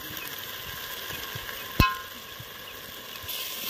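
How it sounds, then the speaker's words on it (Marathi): Ginger, garlic and chili paste hitting hot oil in a pan for chulivarch chicken, a steady soft sizzle with a sharp splash-like burst partway through. "आता याच्यामध्ये आलं लसून मिरचीची पेस्ट घालणार आहोत आपण"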